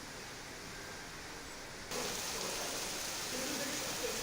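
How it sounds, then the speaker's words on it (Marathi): Heavy pre-monsoon rain falls in Mumbai as a dense, steady hiss that jumps louder about halfway through and stays constant. "मुंबईतही तुफान पाऊस पडतोय"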